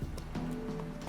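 Roach, Geralt's horse in The Witcher 3, clip-clops along with a few uneven hoof strikes and a faint snorting whinny, close and moderately quiet over a steady game ambience.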